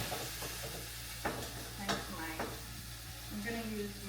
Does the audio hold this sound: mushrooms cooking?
yes